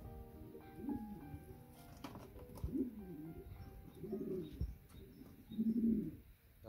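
A female pigeon cooing softly from her nest with a newly hatched chick beneath her, a few low, rounded coos rising in separate bursts over faint background noise.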